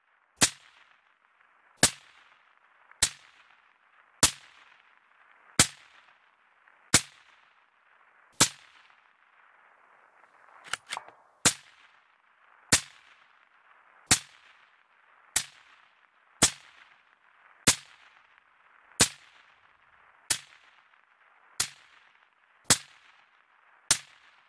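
Rifle shots fired at long range, about seventeen sharp cracks spaced roughly every 1.5 seconds, each with a short decaying tail, loud and close to the microphone with no talking.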